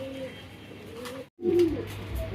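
Black magpie fancy pigeons give a short, low, throaty coo nearby, broken by a brief gap before a louder cooing note resumes over steady background hum.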